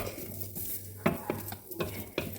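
Garlic dropped into a dry pan with no oil and stirred, soft scraping and a few clinks of a utensil against the pan, close and fairly quiet.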